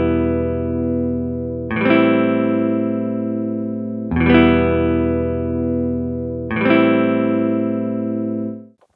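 A multisampled instrument patch in the Kontakt sampler plays three sustained, bright tonal notes in succession, each struck and held for a couple of seconds, clean and close, ending in a soft release.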